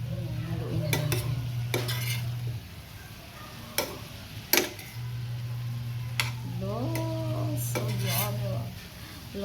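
Tokwa't baboy with chili flakes being stirred in a pan, scattered sharp clinks and scrapes of a utensil against metal, close, with a steady low hum and a voice speaking in between.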